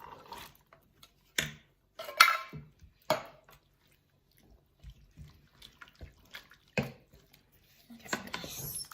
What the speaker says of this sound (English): Now we're gonna add 1 can of black beans.